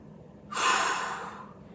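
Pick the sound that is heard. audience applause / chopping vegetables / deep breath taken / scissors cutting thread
deep breath taken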